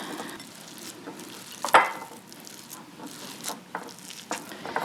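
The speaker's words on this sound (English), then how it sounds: "I'm just going to break it up gently with my hands and fold in the butter where I can" Bare hands work butter into raw ground beef for burgers, making soft wet squishing and patting sounds close by, with one sharper squelch partway through and no talking.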